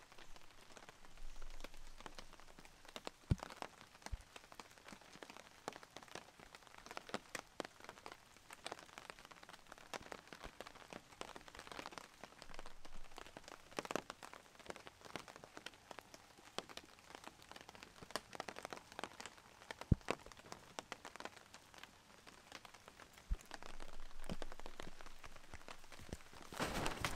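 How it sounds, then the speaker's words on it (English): Rain pattering on a camping tent, a faint, steady spray of scattered drops with irregular sharper taps, continuous for the whole stretch with no talking. "having fun in the rain."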